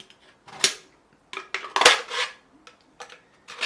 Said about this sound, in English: This is aluminum material, so I can cut with scissors.